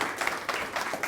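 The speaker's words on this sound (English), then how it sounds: "round of applause" Audience applause at an event for the Illinois State Comptroller, a short dense wash of clapping that fills the moment at steady loudness.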